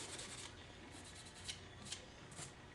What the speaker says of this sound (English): All I'm doing is just doing a real light scuff on it.